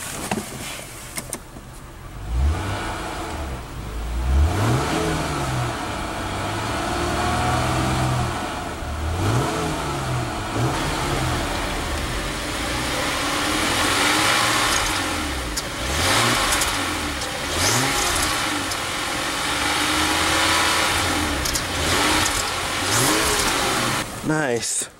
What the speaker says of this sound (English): let's go ahead and rev up the Accord.